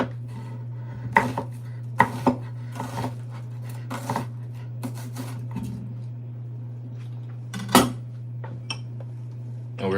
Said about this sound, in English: Onion, 1 onion, you're gonna need 1 onion. Slice it up real nice.